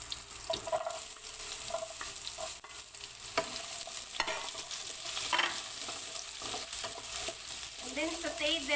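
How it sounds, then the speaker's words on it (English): Onion, curry leaves and green chili sauté in hot oil, a steady close sizzle with frequent scraping stirs of a spoon against the pan, and a short faint voice near the end. "saute this until the onion change color or translucent"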